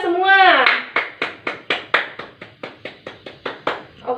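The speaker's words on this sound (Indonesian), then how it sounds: "Tepuk tangan untuk kita semua." A first-grade classroom of children claps in unison, about a dozen crisp, evenly spaced claps in a steady rhythm, following a brief raised voice at the start.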